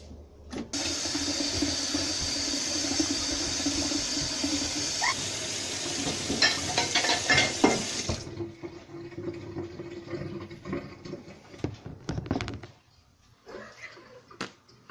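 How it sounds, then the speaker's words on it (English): Tap water runs steadily into a kitchen sink for about eight seconds, then shuts off, followed by clinks and clatter of dishes being handled and rinsed, with a few more brief splashes before it quiets. "Let's do some dishes while Natasha's getting ready to leave."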